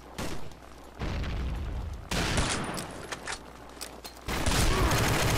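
Bursts of gunfire from the Combat Arms shooter game, loud and dense, with several volleys separated by brief lulls and a heavy sustained barrage toward the end.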